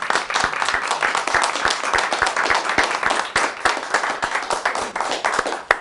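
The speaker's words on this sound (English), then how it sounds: "So let's all give Josephine a round of applause." A studio audience at a cooking show breaks into a loud, dense round of applause, many hands clapping steadily and close throughout without a pause.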